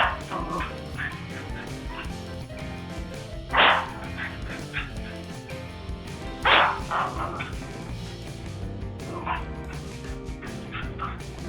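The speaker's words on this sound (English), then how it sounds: "He was having a great time playing, jumping, and growling on this rug." A playful dog yips, whimpers and gives short growly barks on a new rug indoors, with a couple of louder bark bursts spaced several seconds apart amid continuous lively vocalizing.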